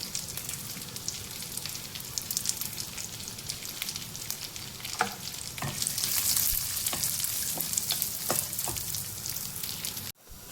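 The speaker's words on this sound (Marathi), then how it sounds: "छान तुपामध्ये परतून घ्यायचे।" Chopped cashews and almonds fry in ghee with a steady, close sizzle and occasional stirring clicks, and the hiss swells louder toward the end.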